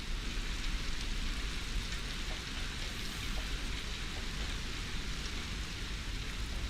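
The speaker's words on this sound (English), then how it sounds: "Cheerless in the rain." Steady rain falling in the video game Dragon Age: The Veilguard, a continuous even wash of drops without pauses, heard alone with no talking.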